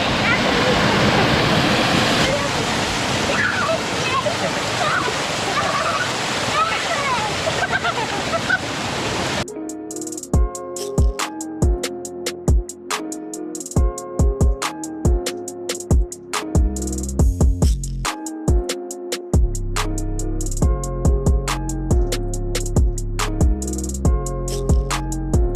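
The Puli Aruvi waterfall at Courtallam roars with a dense, steady rush of water, then rhythmic music abruptly takes over for the rest of the clip.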